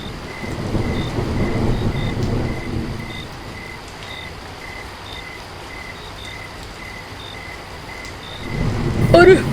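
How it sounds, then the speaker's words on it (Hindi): Steady heavy rain in a thunderstorm with a low rumble of thunder, cold and wet, along with faint chirping insects and a brief rustle near the end. "एक तो ठंड, ऊपर से बारिश, ये बारिश तो हमारी जान ले लेगी।"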